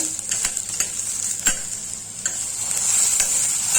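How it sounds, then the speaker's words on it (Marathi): Onion, ginger and garlic sautéing in a pan for matar paneer, a bright hiss of frying oil with a few sharp stirring scrapes, close and steady, no voices. "त्यामध्ये मी आलं, लसूण घातलेलं आहे. ते पण चांगलं परतून घेऊया."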